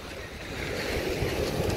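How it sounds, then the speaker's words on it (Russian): Stormy Black Sea surf breaks on the beach at Sochi's Olympic Park, a steady roaring wash of waves with wind noise buffeting the microphone, continuous and fairly loud with no talk. "видишь, какая волна бьет"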